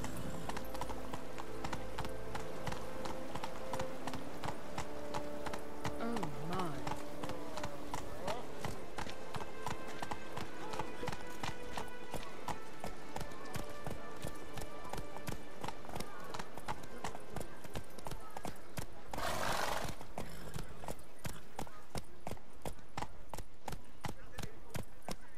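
Horse hooves galloping in The Witcher 3, a rapid, steady clip-clop rhythm close up throughout, with a rider's voice speaking over it and a brief breathy snort near the end.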